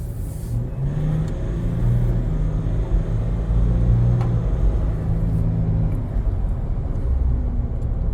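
A Ford Ranger with a throttle controller set to Beast mode level 9 accelerating on a road drive, heard as a steady low engine rumble and drivetrain drone from inside the cabin, with no talking.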